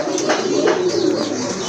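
A pair of fancy pigeons, a male and a female, coo amid a busy bird-market hum, their low murmuring calls steady and close throughout.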